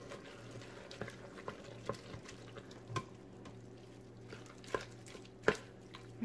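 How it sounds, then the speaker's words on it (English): Hot food stirred inside a Fissler pressure cooker, with quiet scraping and light clinks of a utensil against the pot, a few sharper taps standing out over a low steady background hum. "So just stir it all around."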